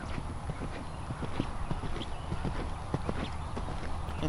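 Horse hooves cantering under a rider on a riding surface, a steady rhythmic clip-clop of footfalls heard fairly close, with faint background sound and no clear speech.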